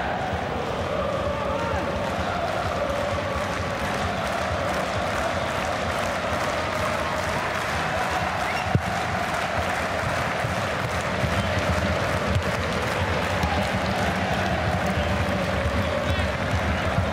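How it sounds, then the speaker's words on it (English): A football crowd at the Sydney Football Stadium keeps up a continuous roar of chanting and cheering, urging their team on. The noise is steady and distant-sounding, and a commentator talks over it throughout. "So the crowd in full voice here at the Sydney Football Stadium, urging their team on"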